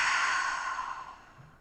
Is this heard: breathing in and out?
yes